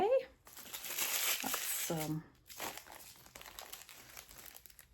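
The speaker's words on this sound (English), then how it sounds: "Look at these cute plastic bags that things are wrapped in." Plastic wrapping bags crinkling and rustling as they are handled, loud close crackling in bursts with brief pauses, someone speaking a word amid the noise.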